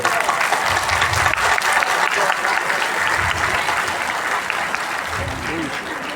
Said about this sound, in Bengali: সবাইকে অনুরোধ করবো একটা জোরে হাততালি দেওয়ার জন্য